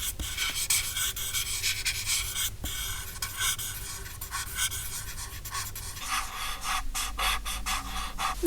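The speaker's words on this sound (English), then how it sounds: "let's give it a bit of a smudge." Pencil drawing of hair being smudged on paper, with soft, close rubbing and scraping strokes that come in irregular bursts, dry and textured, with no voice.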